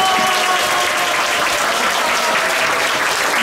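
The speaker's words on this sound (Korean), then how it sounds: "우리 다 같이 한번 우리 스스로 하나님을 영광해서 한 박수 할까요?" A church congregation at a Sunday worship service breaks into loud, dense applause, a continuous full-room wash of clapping that fills the whole stretch with no voices on top.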